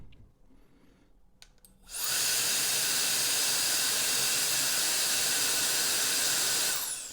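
A Turbo Jet Fan X5 switches on at speed 2 with a sudden loud, steady high-pitched whooshing roar of rushing air that holds evenly for several seconds before easing off.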